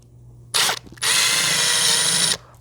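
A power drill driving screws into a curtain rod pulley bracket: a short whirring burst, a brief pause, then a longer sustained high whine about a second and a half long, close and loud with no talking.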